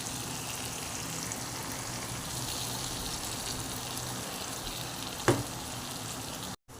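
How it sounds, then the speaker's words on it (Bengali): Onions and tomatoes sizzle steadily in a pan as spice paste is added, a dense, continuous frying hiss close by. One sharp clatter comes near the end, followed by a brief dropout, and nobody talks. "পেঁয়াজ টমেটোগুলো ভাজা ভাজা হয়ে গেছে এবারে এই মশলাটা দিয়ে দেবো"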